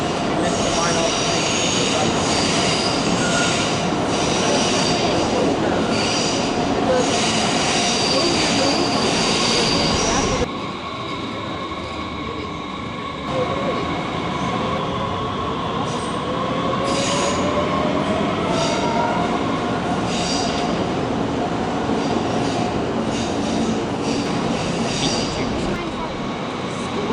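A Frankfurt train rumbles loudly close by, its wheels squealing in long high-pitched tones as it rolls along the rails, with voices faintly audible in the background.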